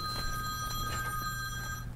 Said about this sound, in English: You have got to turn your phone off